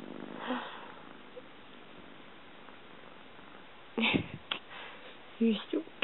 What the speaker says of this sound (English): And now he's purring.